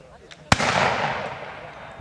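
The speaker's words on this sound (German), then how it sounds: "Geschütz!" A cannon fires at a Napoleonic battle reenactment in an open meadow: one sharp, loud boom that rolls into a long, slowly fading rumble, with a faint pop just before it and no voices.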